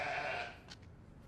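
A single sheep bleats briefly at moderate distance, fading out into quiet background noise.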